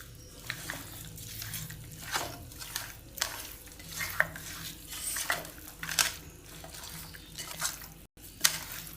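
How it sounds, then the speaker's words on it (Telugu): Chicken dum biryani gets stirred through its masalas in a pot, with repeated scraping and sloshing strokes over a faint steady sizzle, close and rhythmic. "ఇప్పుడు మసాలాలన్నీ బిర్యానీకి పట్టేటట్టు కలుపుకుందాం."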